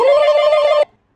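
A telephone rings once in a single loud, close burst of bright electronic bell tone lasting under a second, then cuts off abruptly into silence.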